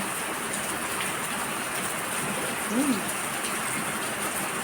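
Rain falling steadily, a constant hiss of drops throughout, with a brief chirp-like tone near the three-second mark and no talking.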